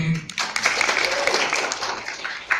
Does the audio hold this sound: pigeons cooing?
no